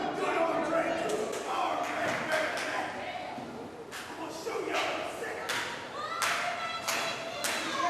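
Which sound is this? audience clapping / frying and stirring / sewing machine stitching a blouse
audience clapping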